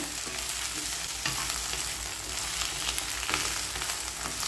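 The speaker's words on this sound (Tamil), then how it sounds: "கட் பண்ணி வச்சுக்கூடிய வெண்டைக்காயை இதில் சேர்த்துக்கிடுங்க. ஒரு 10 நிமிஷம் நல்லா கிளறி விட்டுக்கிடுங்க" Cut okra fries in ghee with a close, continuous sizzle, broken by scraping spatula strokes that stir it at an irregular pace; no voices.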